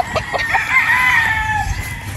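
A pure Boston Roundhead gamecock crows once, loud and close, a drawn-out call with a few clucks around it.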